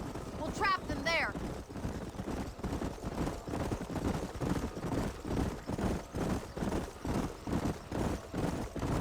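Horses galloping in Red Dead Redemption, a steady rhythmic drumming of hooves close by that runs throughout, with a brief whinny near the start and a voice speaking over the hoofbeats.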